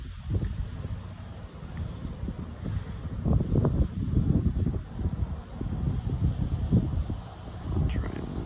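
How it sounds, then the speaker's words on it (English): Wind buffeting the microphone outdoors, low rumbling gusts that swell and fade irregularly, with a faint high hiss in the background. "it's a little bit windy"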